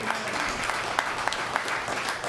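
Audience applause ringing out for a performer at a live music event, a dense wash of steady clapping with a few sharper claps, no voices standing out.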